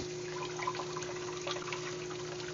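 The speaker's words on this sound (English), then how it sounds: "Wash off the dirt from these mushrooms." Tap water runs steadily as fresh mushrooms are rinsed of dirt, a continuous close splashing stream with no talk.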